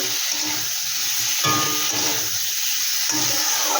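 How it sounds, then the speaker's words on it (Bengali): A large tomato sautés in a hot pan for a prawn dish, a steady sizzling hiss with crackling bursts that swell every second or so, close and continuous. "দিয়ে দিচ্ছি বড় সাইজের একটা টমেটো একটু ভালো করে আমি কষিয়ে নেব"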